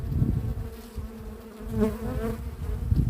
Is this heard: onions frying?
no